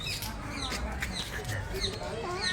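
Hens at a zoo enclosure, including golden and ring-necked jungle fowl, give short clucks and chirps over a steady murmur of background crowd noise.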